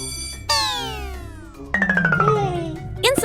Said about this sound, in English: Outside, Daddy Pig presses the doorbell again.